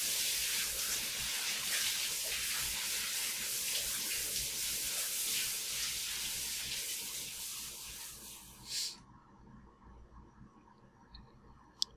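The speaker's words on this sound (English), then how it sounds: "I'll take a shower." Shower water in the horror video game Paranoiac runs as a steady hissing spray for about nine seconds, then cuts off abruptly, leaving quiet room tone and a faint click.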